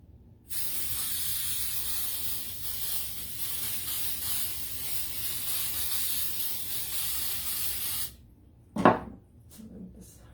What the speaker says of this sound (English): And then spray adhesive.